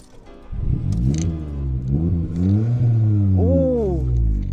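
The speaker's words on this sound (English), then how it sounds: "So this has got a modified back box with twin Polo GTI exhausts." Modified 2008 Volkswagen Polo with an aftermarket back box and twin Polo GTI exhaust tips, revved hard several times in rising and falling sweeps, loud and close, ending in a high sustained rev.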